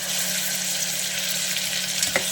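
Onion, curry leaves and tomato fry in a pan with a steady, close crackling sizzle, broken by a single sharper clatter near the end; no voices.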